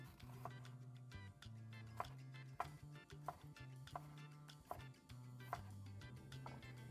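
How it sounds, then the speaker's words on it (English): Sharp knife chops through a yellow onion on a cutting board, a steady run of crisp taps over a constant low musical hum. "This is another quarter of our yellow onion I'm chopping."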